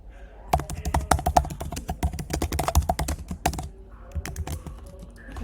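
Rapid, uneven clatter of keys being typed on a computer keyboard while writing code, close and clear with bursts and short pauses, steady for several seconds.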